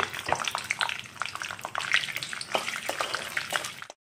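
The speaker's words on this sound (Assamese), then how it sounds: "বাদামখিনি মই ভজা নাছিলোঁ প্ৰথমতে, সেইকাৰণে তেলত অলপ ভাজি লওঁ" Peanuts frying in refined oil in a wok for homemade samosa filling: a busy crackling sizzle with frequent sharp pops and scrapes of stirring, moderately close, ending abruptly.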